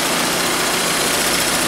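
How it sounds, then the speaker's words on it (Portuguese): Chevrolet Vectra CD engine running steadily, a close, loud broadband engine and fan noise with no voices over it. "Tá aí o Vectron funcionando"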